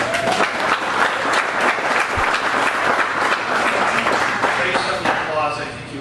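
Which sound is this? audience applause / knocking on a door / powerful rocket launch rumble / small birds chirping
audience applause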